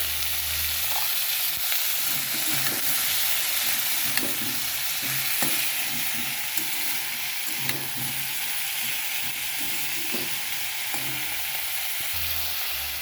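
Malabar spinach and pumpkin with turmeric and salt fry in a pan under a steady sizzle, while repeated soft scraping strokes mark the stirring, close by and without any talking.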